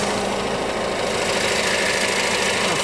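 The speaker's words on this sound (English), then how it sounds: "And fire this pump set up" A DXB Pumps Stage 5 emission-compliant pump set engine runs at a quarry wash plant, a loud, steady, close mechanical drone with a rough idling knock and no pause throughout.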